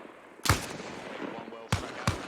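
Gunfire cracking overhead in Arma Reforger, three sharp reports spaced apart, with a voice speaking between them.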